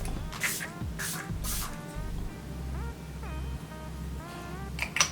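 Several short bursts of a fine facial setting spray from a L'Oreal energizing mist bottle, sharp and close, repeating in quick pumps over a low steady background hum with faint squeaky sounds.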